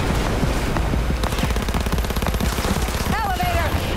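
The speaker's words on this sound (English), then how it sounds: "Let's try submachine gun." Submachine gun fire in the video game Cyberpunk 2077, rapid sustained bursts of closely spaced shots rattling continuously, loud and close over game background sounds, with a brief whistling tone near the end.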